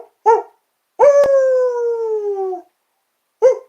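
A person imitates howling at a full moon: short 'ooh' calls around one long, falling howl, loud and close with silence between the calls.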